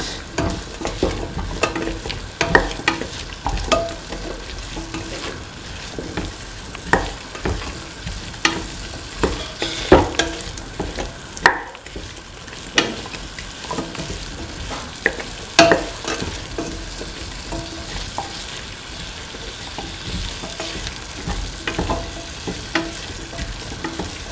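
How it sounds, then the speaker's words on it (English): Spice mixture stirred into a pumpkin and ivy gourd stew base, a spoon scraping and tapping the pot in quick irregular strokes over a continuous frying sizzle, close and steady with no voices. "Thoroughly mixing the mixture spices with the rest of the mixture."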